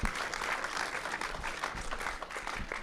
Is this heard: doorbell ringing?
no